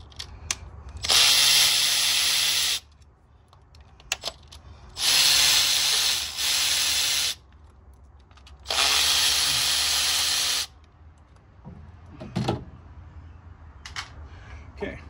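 Ten-millimetre bolts come off a Honda CR-V engine during spark plug replacement, with three loud sustained bursts of a power tool separated by quieter clicks and handling noise.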